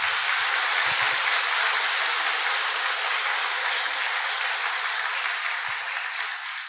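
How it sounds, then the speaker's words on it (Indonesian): A crowd at a network marketing gathering claps in a dense, steady roar of applause that runs unbroken throughout and fades slightly at the end. "kita kasih tepuk tangan yang paling meriah untuk upline-upline kita semua"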